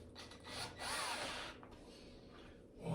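Stainless steel screws driven into a wooden kitchen cutting board to fix its feet, a soft scraping, grinding rasp that rises and fades over a few seconds, quiet and close.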